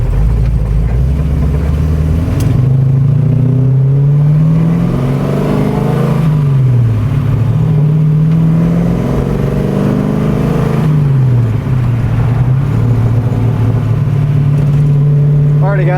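A 1969 Mustang Mach 1 cruises on the road, its loud engine droning steadily throughout with repeated rises and dips in pitch as it accelerates and shifts, heard from inside the car.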